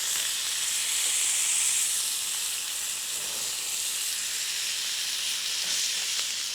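Meat sizzling hard in a hot pan just after being flipped, a loud, dense, continuous hiss and crackle up close, unbroken for several seconds with no talking.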